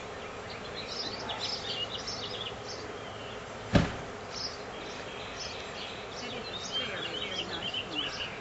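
A steady swarm of honey bees buzzing throughout, with one brief louder thump partway through.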